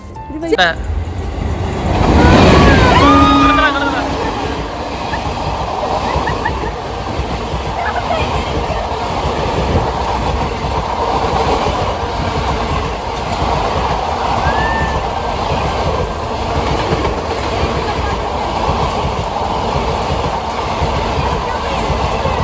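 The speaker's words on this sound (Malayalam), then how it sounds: "ഇപ്പോൾ ട്രെയിൻ വരും അതിന് വേണ്ടിയിട്ട് വെയിറ്റിംഗ് ആണ് ഞാൻ" A train rumbles in and keeps rolling, a loud steady drone with a whistle-like tone early on and scattered metallic squeals, close by.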